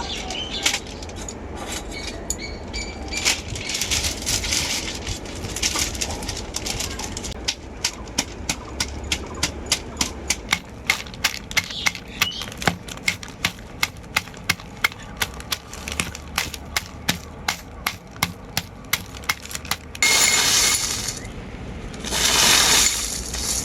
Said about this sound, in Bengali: এরপর আমি হজমি চকলেটগুলো গুঁড়ো করে নেব